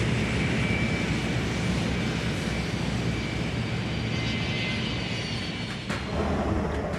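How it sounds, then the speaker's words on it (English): Argentine A-4B Skyhawk fighter bombers in flight: a loud, continuous broadband jet roar that holds steady for several seconds, with no talk over it. "The Argentinians are flying A-4B Skyhawk fighter bombers, old but still fast, maneuverable, and highly effective."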